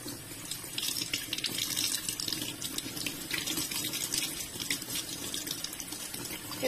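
Cold tap water runs steadily over kefir grains being rinsed in a sink, a close, continuous splashing gush lasting several seconds with no speech.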